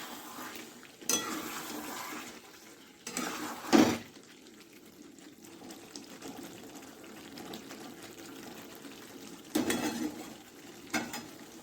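Mutton braising with spices, salt and oil in a pan while being stirred, giving a soft sizzle under a few louder scraping, clattering bursts of the spoon against the pan.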